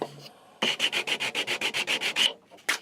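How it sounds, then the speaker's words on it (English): Sandpaper rubbed by hand over a painted wooden doll's highchair to take the paint off, about a dozen quick, even back-and-forth strokes in a steady rhythm, close and clear with no talk. "So sandpaper, get some of this paint off."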